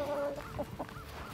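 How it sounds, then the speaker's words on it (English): Short bout of chicken clucking nearby, a few soft throaty clucks in quick succession. "We have our rooster Gilbert."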